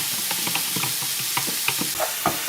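A spoon stirring mint sauce into stock for lamb steaks in mint gravy makes quick, close scraping and clinking strokes over a soft, constant sizzle. No voices are heard.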